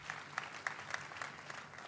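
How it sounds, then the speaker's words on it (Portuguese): Faint applause from a church congregation, a soft continuous patter of many hands with a few louder claps standing out, heard from some distance. "vamos aplaudir a Jesus Cristo"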